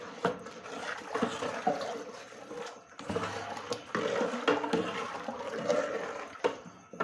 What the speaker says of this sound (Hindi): अब तकरीबन 10 लीटर पानी इसमें डाल दिया है